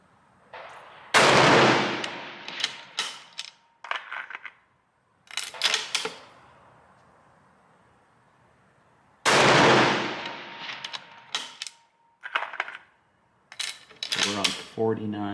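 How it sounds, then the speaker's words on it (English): Two loud, sharp rifle shots of hand-reloaded rounds with the same powder charge, fired about eight seconds apart, each with a ringing tail, followed by metallic clinks and handling noise. "I will shoot the same powder charge twice in a row now"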